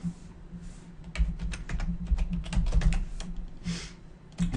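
Login credentials typed on a computer keyboard, with a close, irregular burst of key clacks and a brief pause before the final keystrokes, with no talking.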